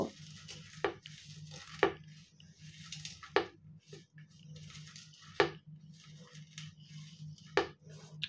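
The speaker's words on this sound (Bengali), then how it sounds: "শুকনো মরিচ আর লবণ ভালোভাবে হাতের সাহায্যে মেখে নেব" Salt and dried chili are squished by hand into a mash of green jujube, with soft wet squelches and repeated sharp taps at irregular intervals over a low steady hum.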